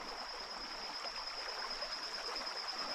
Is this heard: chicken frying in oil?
no